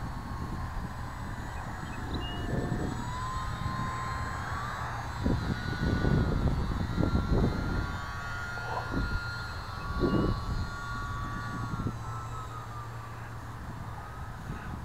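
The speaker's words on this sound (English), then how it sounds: "this is a fun little plane. It's really flies well" Small E-flite UMX Yak model airplane in flight, a steady whining electric motor buzz that rises and falls as it maneuvers, with wind buffeting and bumps up close.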